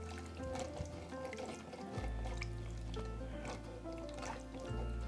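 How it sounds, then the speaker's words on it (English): A tamari and maple syrup mixture is poured into a pan and lightly whisked, soft liquid pouring and dripping with gentle splashy stirring, quiet and close under background music. "now we add the tamari and maple syrup mixture and we whisk it lightly until you see bubbles start to form"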